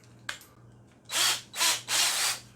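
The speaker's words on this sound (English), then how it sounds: "think it's a 3/16 inch drill bit" A power drill with a 3/16 inch bit drilling holes in a washed-out plastic milk jug, three short whirring bursts in quick succession after a faint click, close and fairly loud.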